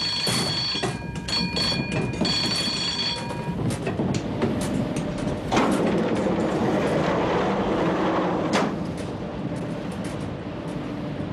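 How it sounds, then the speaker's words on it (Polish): Anti-aircraft alarm bell ringing aboard the Polish warship ORP Orzeł, a loud, insistent electric ring repeating for several seconds over heavy rumbling machinery noise that continues after the bell stops. "Alarm przeciwlotniczy."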